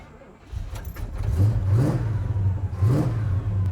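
An abandoned project car's engine, revived after years of sitting, revs hard in rising, close, loud pulls with an idling rumble between them, set for burnouts.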